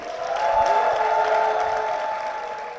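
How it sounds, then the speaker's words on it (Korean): A church congregation claps as a deaconess is welcomed forward, with a sustained even wash of applause over a steady organ or keyboard tone. "박수로 모시겠습니다"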